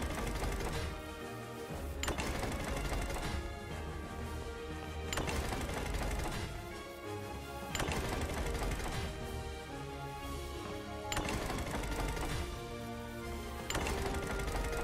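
A moving-nuts mechanism in Pokémon Brilliant Diamond grinds and clicks in a steady mechanical loop, with ratcheting gear sounds that swell into a sharper clank every couple of seconds.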